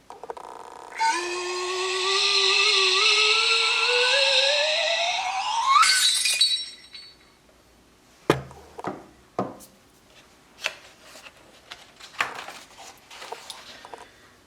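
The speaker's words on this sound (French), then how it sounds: "puis atterrit dans un carreau de la fenêtre de la cuisine qui se fracasse immédiatement en" A kitchen window pane shattering, preceded by a long rising whistling swoop that ends in a sharp crash, followed by scattered tinkling fragments and clatters in a quiet room.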